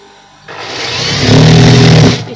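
A sewing machine stitches a pajama pocket in one loud, close, continuous whirring run that rises in speed for about two seconds and then stops.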